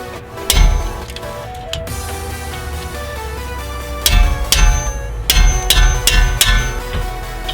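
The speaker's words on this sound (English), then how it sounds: "Take a wrench and then hammer it." A wrench is struck with a hammer to loosen a rear brake caliper bracket bolt on a 2012 Acura TSX, giving several sharp metallic clanks, one early and a quick cluster later, close and loud.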